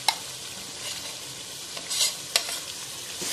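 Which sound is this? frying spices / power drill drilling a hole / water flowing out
frying spices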